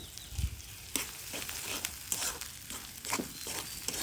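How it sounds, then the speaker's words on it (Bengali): Spice paste of ground onion, garlic and ginger sizzles steadily in a pan for a potato dish, with scraping stir strokes and clinks breaking through the continuous frying hiss. "এখন এটাকে আমি খুব ভালো করে কষিয়ে নেব।"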